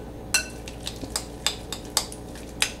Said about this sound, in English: mix it up really well